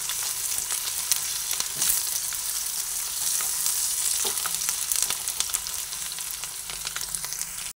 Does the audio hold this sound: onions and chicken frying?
yes